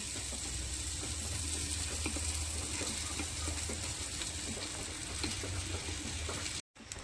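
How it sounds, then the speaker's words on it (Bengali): Fried rice goes into a pan of sizzling spices for khichuri, making a loud, continuous close sizzle with faint stirring scrapes. "এবারে ভেজে রাখা চালটা দিয়ে দিচ্ছি"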